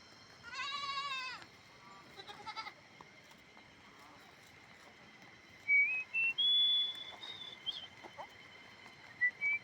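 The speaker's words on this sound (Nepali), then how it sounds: "यस्तो छ बाख्राहरू।" Goats grazing by a roadside let out a loud bleat up close, followed by fainter calls, whistles and scattered outdoor sounds in a quiet setting.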